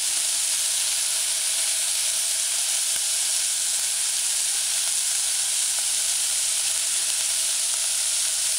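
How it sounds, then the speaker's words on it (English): Onions and scallion sautéing in a pan with thyme and herbs, giving a steady, even sizzle and hiss that holds at one level throughout, close by and alone with no voices. "Just allow it to saute."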